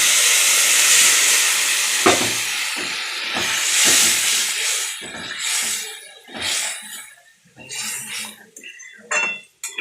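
Water poured into a hot pan of spices bursts into a loud, broad steam hiss that lasts several seconds, then fades into clattering and scraping of utensils against the pan.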